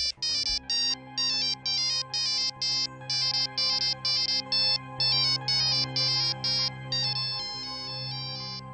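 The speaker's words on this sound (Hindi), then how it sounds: "ये तो लोलो का मोबाइल है।" A mobile phone ringtone plays loud and close, a rapid pulsing electronic melody repeating throughout with no talk over it.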